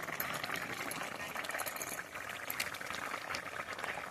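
A pot of Bata fish curry boils steadily with a close, continuous bubbling and hiss, with small irregular pops throughout and no speech.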